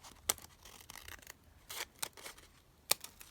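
Scissors snipping paper down to size while making a window envelope book, several quiet separate cuts and rustles spaced irregularly, close and alone without talk.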